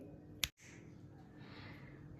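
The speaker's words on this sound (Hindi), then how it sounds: "हम चुटकी बजाएंगे" A single sharp, crisp finger snap sounds once, close up and alone, against a faint, quiet room background.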